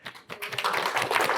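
Audience applause for a guest at a financial market-update event, starting sparse and building into a steady, fairly close round of clapping with no talk over it.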